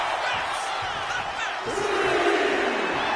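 A wrestling arena crowd at a WCW Nitro event roars and cheers in a dense, steady wash of noise, with a rising shout near the end.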